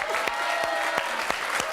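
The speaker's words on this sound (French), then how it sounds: "On peut l'applaudir très très fort." Studio audience applauding warmly on a television show, dense continuous clapping with a few sharper claps standing out, close and sustained without talk.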